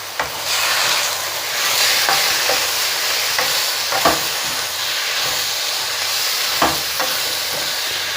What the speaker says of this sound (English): I have to fry the chicken as well, because frying is a little bit tastier.